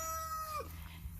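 A chicken in a backyard garden chicken run gives a short call with a falling pitch, moderately close, over a low steady background hum.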